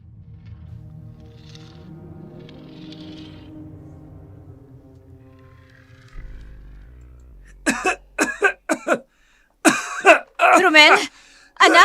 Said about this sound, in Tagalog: Halos hindi na rin siya makahinga sa tuwing inuubo siya.